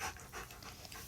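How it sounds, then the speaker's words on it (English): A dog whimpering and panting in the background, soft whiny bursts repeating several times over a steady faint hiss, with no talking. "That's my dog whimpering in the background."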